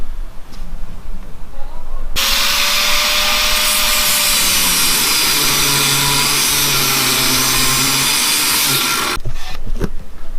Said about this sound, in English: we're just going to grind them off